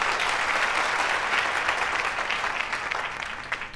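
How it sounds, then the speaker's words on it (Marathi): A studio audience on a talk show applauds to welcome a guest, a dense, sustained wash of clapping that stays loud and then tapers slightly near the end. "तर सगळ्यात आधी टाळ्या वाजवून स्वागत करूया सनीचं."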